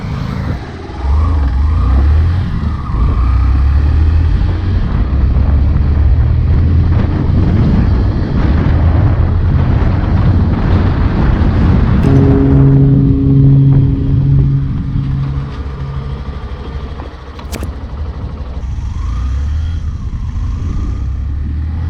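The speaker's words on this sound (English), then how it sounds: "I'll get this bike to 60 km/h and then we'll try to squeeze the brake and try to stop it" Hero Glamour Fi BS6 commuter motorcycle accelerating steadily to 60 km/h, engine note and wind rushing loud and close, then easing off as it brakes, with engine hum settling lower near the end.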